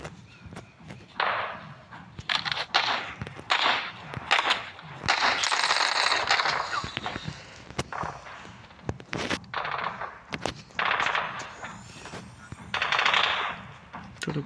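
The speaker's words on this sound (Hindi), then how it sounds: "आप चाहे तो आप खुद से भी फायर कर सकते हैं, या फिर ऑटो मोड में भी फायर कर सकते" Automatic gunfire in the mobile shooter game Battle Prime, loud rapid bursts of machine-gun fire repeating in stretches with short pauses, close and dominant throughout.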